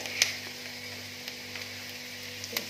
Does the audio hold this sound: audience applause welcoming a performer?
no